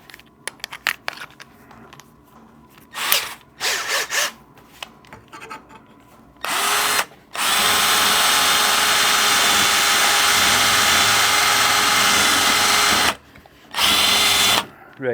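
Power drill fitted with a tapered hole bit boring into metal, starting with several short whirring bursts, then one long sustained loud grinding run, and ending with a final brief burst after a pause.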